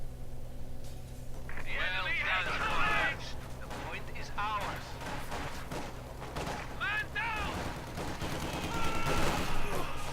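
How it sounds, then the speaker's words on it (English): Wehrmacht grenadiers trade rifle fire in a Company of Heroes 2 battle, a crackling fusillade of scattered shots in uneven bursts, with in-game soldier voices calling out in between. "Grenadiers shooting at them"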